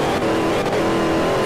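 Car engine in Forza Horizon on a dirt club circuit, a loud, steady racing drone with a sharp tonal whine as the car fishtails, near and alone.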